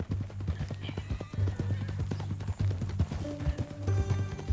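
Horse hooves clip-clop in a steady trotting rhythm in Red Dead Redemption 2, close and prominent, with a brief whinny and voices talking over the hoofbeats.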